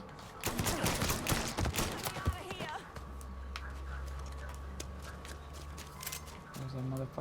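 Gunfire in Mafia 3 comes as a dense cluster of loud, rapid shots that ends abruptly and gives way to a low steady hum, with a few faint clicks afterward.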